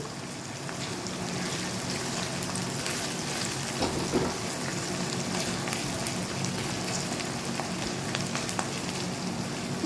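A small amount of ginger fries in a pan for a Bengali ghugni, giving a steady, even sizzle with faint crackles that carries unbroken from start to finish, with no voices.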